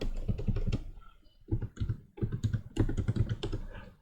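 Fast irregular bursts of computer keyboard typing as Python code is entered, close and fairly loud, with a short pause near the middle before the clatter resumes.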